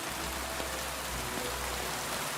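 Steady night rainfall in Kingdom Come Deliverance 2, a continuous even hiss of drops on the ground with a low rumble underneath, constant and unbroken throughout.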